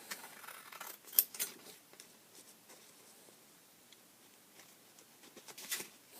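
Scissors snipping through paper while trimming tags for a junk journal, a few quick crisp cuts at the start and near the end, faint and close, with quiet rustling between.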